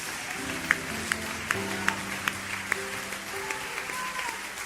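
Church congregation applauding during a sermon, a quiet spread of clapping with a few sharper claps, while a voice speaks or sings over it.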